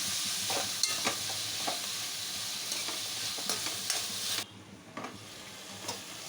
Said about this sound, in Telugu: మసాలా ఆయిల్లో ఫ్రై అవ్వాలి.